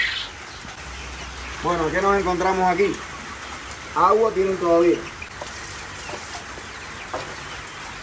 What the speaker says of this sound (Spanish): Vamos por lo segundo más vulnerable, que son los pollitos de ceba